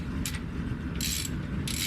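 Ratchet on the oil drain plug of a Volkswagen Atlas with a 2.0 TFSI engine, giving three short clicking bursts over a steady low background hum.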